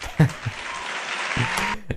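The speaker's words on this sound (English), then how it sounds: "People are cheering this, ladies and gentlemen." An audience at a political event applauds in a steady wash of clapping, with a voice speaking briefly at the start and end.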